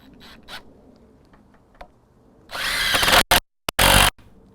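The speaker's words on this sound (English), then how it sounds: "So I'll do both at the same time." Two Dewalt cordless impact drivers, a DCF809 and a DCF885, whir loudly together for a few seconds, then cut out and start again in short stuttering bursts, close and harsh.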